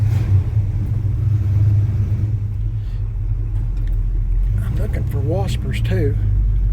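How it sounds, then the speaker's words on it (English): A 1984 Chevy C10 pickup with a 350 engine and 4-speed transmission idles steadily with a low, even rumble, while people talk over it near the end. "Let's let it sit right here and run for just a moment. It's a 350 with a 4-speed transmission."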